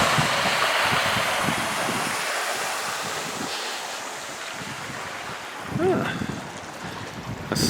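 Water rushes down a small channel and over a drop on a countryside walk, a steady broadband roar heard close, with wind buffeting the microphone and a brief louder surge near the end.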